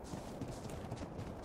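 An equus horse in the video game ARK runs off, its hoofbeats a faint, quick clip-clop under a low, quiet background.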